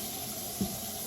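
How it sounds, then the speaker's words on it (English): A kitchen tap runs steadily while the water is left to heat, giving a faint, even hiss of flowing water with one small splash partway through. "I'm gonna let the water get hot."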